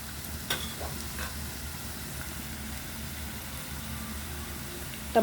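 Tomatoes hit a hot frying pan with a steady, moderate sizzle, broken by a couple of brief clatters from stirring and a sharper scrape at the end.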